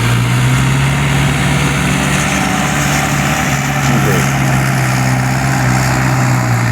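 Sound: New Holland tractor engine running

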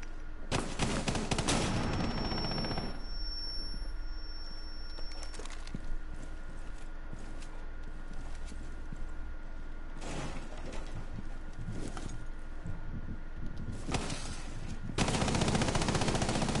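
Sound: gunfire in Rainbow Six Siege video game

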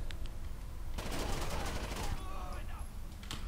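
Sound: gunfire in video game Rainbow Six Vegas 2

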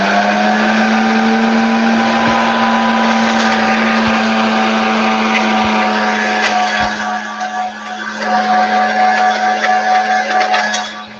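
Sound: blender blending cocoa butter skincare mixture

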